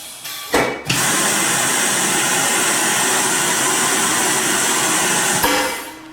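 A Piab piFLOW vacuum conveyor pump starts with a sharp pop, then runs as a loud steady broadband rush of air for about five seconds before another pop and fade.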